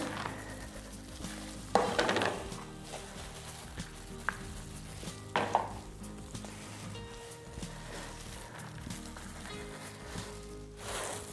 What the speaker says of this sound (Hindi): मिक्सचर बना लें जो कि कैक्टस प्लांट्स के लिए सूटेबल होता है। इसे मिक्स करें।